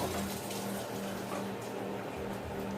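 Broth being poured into a pot for French onion soup, a steady close liquid splashing and gurgling that runs without pause throughout.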